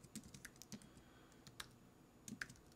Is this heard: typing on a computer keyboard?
yes